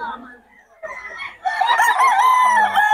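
A young stag rooster of farm-bred lemon sweater stock crows loudly nearby, one long drawn-out call with some clucking around it and brief talk early on.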